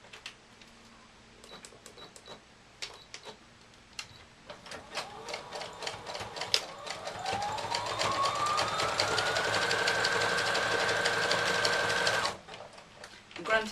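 Sewing machine running a zigzag stitch around the edges of a Christmas Santa cushion, starting with short stop-start bursts, then a long steady whirring run that ends abruptly, close and clear without talk.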